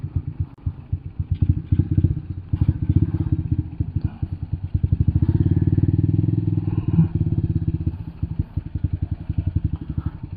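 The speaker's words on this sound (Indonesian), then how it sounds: "Gue puas sama modifikasi motor gue yang satu ini." A modified carbureted Yamaha Byson motorcycle runs close by with a loud, lumpy, rapid thumping exhaust that rises and falls as the throttle is blipped, sounding alone.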